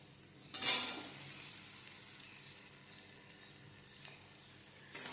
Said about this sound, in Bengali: আবার একটু ভালোভাবে নেড়ে চেড়ে কষিয়ে নেব